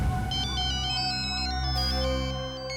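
Melodic mobile phone ringtone plays a repeating electronic tune, clear and close, with no talking over it.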